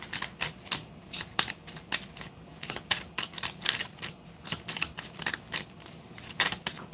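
Playing cards are shuffled and drawn in quick irregular bursts of crisp snapping and flicking, close and fairly quiet, with no talk.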